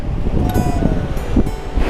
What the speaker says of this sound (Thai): วันนี้ค่อนข้างลมแรงนะคะทุกคน